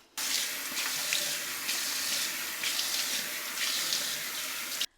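A faucet runs steadily into a sink while a face balm is rinsed off, a close, even rush of water with small splashing changes as hands move through it, starting and stopping abruptly, with no talk.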